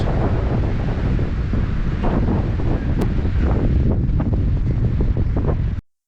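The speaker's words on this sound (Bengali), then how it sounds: "প্রচন্ড বাতাস।" Strong wind buffets the microphone on Bashbaria sea beach, a steady loud roar with a faint wash of surf beneath it that runs unbroken for about six seconds, then cuts off.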